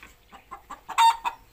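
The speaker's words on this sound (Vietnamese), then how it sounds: "Gà nó chạy toán loạn." Chickens cluck in a flurry of short, agitated bursts, growing louder toward the end as birds scatter and run wildly around a yard.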